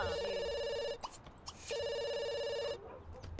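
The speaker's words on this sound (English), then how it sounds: "So that the phone rings." A telephone in a bakery video game rings in two long electronic bursts separated by a short gap, steady and bright, with no talking.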